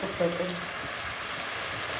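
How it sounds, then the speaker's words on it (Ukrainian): Meat seasoned with soy sauce sizzles steadily in a hot pan as it is browned on both sides, a constant crackling hiss with a brief voice at the start. "Обсмажуємо м'ясо з двох сторін."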